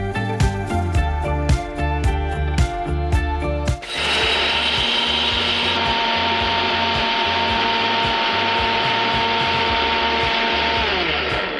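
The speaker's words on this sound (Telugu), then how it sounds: "ఇది మిక్సీ పట్టేసుకుందాం" A kitchen mixer grinder blitzes peanuts, chana dal and dry red chillies, first in loud pulsing bursts with rattling hard pieces, then settling into a steady, dense high-pitched whirr that runs continuously to the end.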